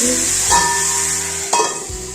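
Onions for paneer bhurji stirred and frying in a pan over a low flame, a steady close sizzle with scraping strokes of a spoon sweeping through at intervals, no talking.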